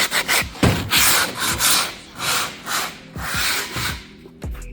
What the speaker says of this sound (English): And then we grab a few here and we start sanding it down.